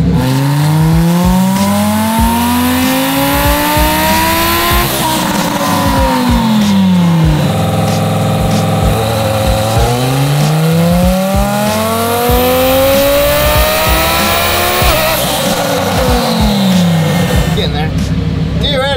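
Twin-turbo Lamborghini Huracan STO running 8.5 pounds of boost through Garrett turbos on a dyno, its engine revving up and down in repeated long sweeping pulls, loud and close throughout.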